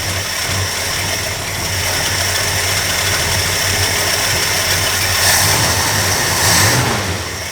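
A car engine idling steadily with a low, even rumble and faint vibration, holding constant throughout with no revving or talk.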